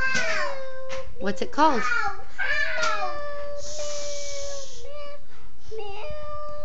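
Several wavering cat meows sound close by, mixed with an adult and someone talking.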